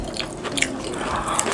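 A single close, crisp crunch as someone bites into fried chili shrimp, a short burst of crackling chewing with no talking.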